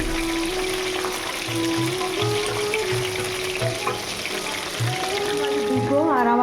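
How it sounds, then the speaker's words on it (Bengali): Steady hissing sizzle of food frying in a pan, continuous and close, with occasional low clinks and a voice briefly speaking at the end. "তো এটা এইভাবে উনিতে লাল লাল করে ভেজে নিয়ে তুলে নেবো"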